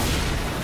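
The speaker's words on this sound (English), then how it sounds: "Oh, put up the fireworks, Kenny." A loud, dense burst of firework explosions fills a zombie shooter game at a dark carnival, a single short continuous blast with no talk.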